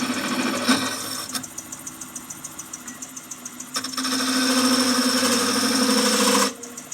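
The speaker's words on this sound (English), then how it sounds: "And use a scraping cut." Wood lathe spinning a Christmas angel ornament while a tool makes a scraping cut, a steady whir with a bright tonal scrape that grows louder and denser toward the end before cutting off.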